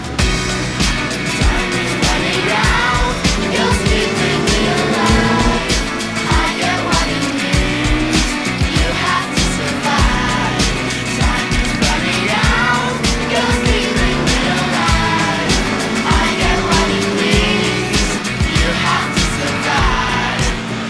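A sidecar motorcycle race on a circuit: dense, loud engine roar throughout, with rising and falling revs, overlapping machines passing and steady crowd and track noise behind, no distinct talk.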